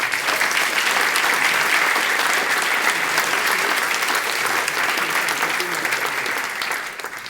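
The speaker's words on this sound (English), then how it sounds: "please clap your hands for clojureD's management" A conference audience claps loudly and steadily for the event's management, a dense, sustained wash of applause that holds at full strength and eases slightly at the very end.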